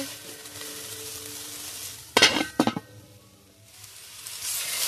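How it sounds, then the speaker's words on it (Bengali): Kulekhara greens frying in a pan, a close sizzle with a couple of sharp bursts of stirring and scraping in the middle, then the frying settles back to a steady hiss. "ভালো করে নেড়ে নেব।"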